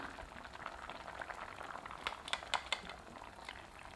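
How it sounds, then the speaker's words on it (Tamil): Soft bubbling of curry simmering in a pot, with a scatter of small pops and crackles growing sharper toward the middle, steady and close by. "இப்போ நல்லா கொதி வர ஆரம்பிச்சிருச்சுங்க"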